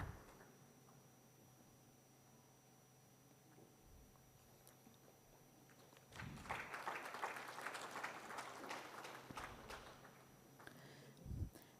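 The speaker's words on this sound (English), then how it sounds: "A round of applause, ladies and gentlemen, as we thank our speakers for sharing their perspectives." Audience at a heavy haul railway seminar breaking into applause for the speakers, a quiet room that suddenly fills with steady crowd clapping partway through, sustained for several seconds at moderate distance before tapering.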